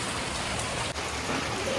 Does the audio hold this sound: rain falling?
yes